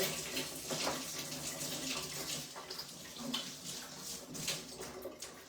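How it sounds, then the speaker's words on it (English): Tap water runs steadily into a sink while hands are washed, a continuous splashing hiss with small irregular surges, moderately quiet and close. "I just realised I forgot to wash my hands"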